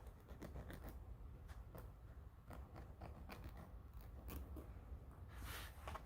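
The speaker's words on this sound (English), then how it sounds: "Filing square along the side, across the top." A nail file rasps across a press-on nail in a quiet room, producing faint, close, rhythmic scraping strokes repeated in quick succession.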